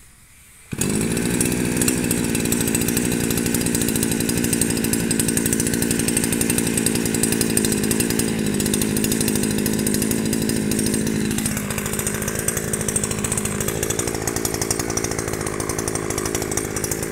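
An engine-powered cutting machine, shown among farm equipment in Melur, Madurai, starts abruptly and runs loud and steady, holding a constant buzzing whine before dropping in pitch partway through as it bites into the cut.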